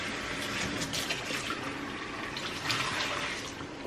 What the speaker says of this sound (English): I gotta wash the coffee pot out